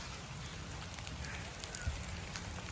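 Light rain falls steadily at a rainy-day campsite during breakfast, a soft, even hiss close by with no talking.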